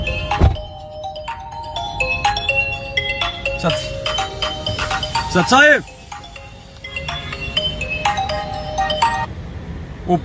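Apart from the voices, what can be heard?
phone ringtone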